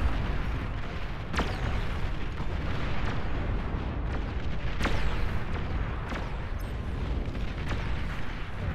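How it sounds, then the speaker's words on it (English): Rumbling battle din from the real-time strategy game Beyond All Reason during a nuclear missile launch, a steady low roar broken by sharp booming blasts every second or so, loud and continuous throughout. "Nuclear missile launch detected."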